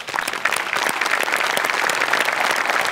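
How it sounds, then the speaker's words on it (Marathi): A studio audience at a comedy show claps for the makeup department: dense, steady applause that runs close and full for a few seconds, with no speech over it. "मला सगळ्यात आधी टाळ्या वाजवायच्या त्या आपल्या मेकअप डिपार्टमेंटसाठी"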